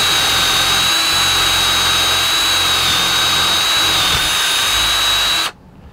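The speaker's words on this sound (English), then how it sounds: "pull the trigger a couple times till you get it dent in the board, and then you can spin it at full speed" A Ryobi One+ 18V cordless drill whines steadily at high speed drilling into a board, loud and close, then cuts off abruptly near the end.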